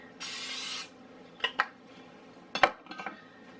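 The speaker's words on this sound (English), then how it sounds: "I'm going to spray this, hopefully to prevent sticking." A cooking spray can hisses in one steady burst, followed by a few clinks of metal and dishes being handled nearby.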